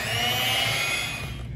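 An electric mixer whirs at low speed beating flour and cocoa, a steady buzzing motor hum with a brief dip toward the end.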